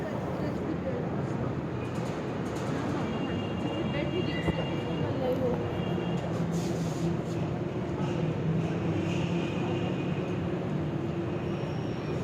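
A busy metro station fills with a steady rumble of trains and crowd noise, with voices murmuring throughout and no single sound standing out.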